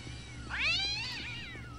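A cat in a video game gives one drawn-out, rising and falling meow after being thrown, clear and fairly close over a low background hum.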